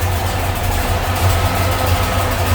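A 1970 Dodge Super Bee V8 with dual Edelbrock four-barrel carburetors idles close by, a loud, steady low rumble with a slightly lumpy pulse and no talking.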